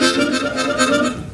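A harmonica is played with weak chest breathing, a single held chord tone with thin, wavering volume, close and alone for about a second and a half.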